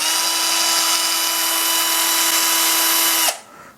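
An electric drill runs at a steady high-pitched whine for about three seconds, loud and close, then cuts off abruptly.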